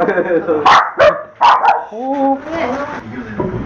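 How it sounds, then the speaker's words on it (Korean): Several dogs bark loudly inside an office: a few sharp, close barks come in quick succession, then people talk over the tail end. "사무실에 있던 강아지들이 요란하게 짖기 시작하고"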